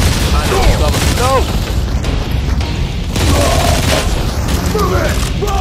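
Gunfire and explosive booms from the mobile shooter game Modern Combat 4: Zero Hour, played on an Android tablet, fill the whole stretch loudly and continuously, with shouted in-game voice lines mixed over the shooting.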